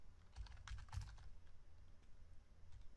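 Code being typed on a computer keyboard, a quiet burst of quick clicking keystrokes early on that thins to a few faint taps, heard close but at very low level with no speech.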